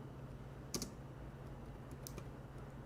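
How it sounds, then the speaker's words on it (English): Typing on a computer keyboard in a quiet room, a few faint scattered clicks and short key bursts over low background hum. "what I'm typing here?"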